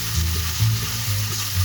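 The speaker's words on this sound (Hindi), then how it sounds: "अदरक लहसुन का पेस्ट डाल रही हूँ।" Ginger garlic paste frying in hot oil in a home kitchen pan, a steady close sizzle with light stirring scrapes, no one speaking.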